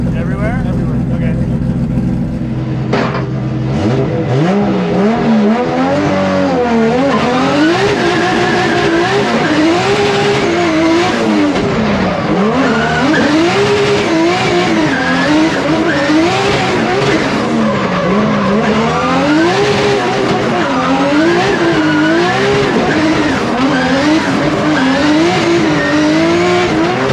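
A high-powered Driftmasters drift car screams at high revs with continuous tire squeal, the engine pitch wavering up and down as it slides, loud and close throughout, with voices faintly underneath.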